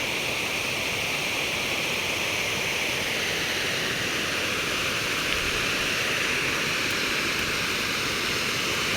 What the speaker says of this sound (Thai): นั่งฟังเสียงน้ำตกครับพี่น้อง